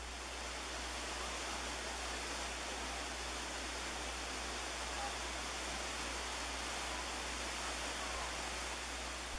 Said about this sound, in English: Here's a little whirlpool that was downstream.